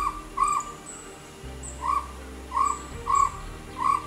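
Chestnut-backed owlet calling in a Sri Lankan wet-zone forest, a series of short repeated hoots spaced roughly every half second to second, moderately close over a soft forest background.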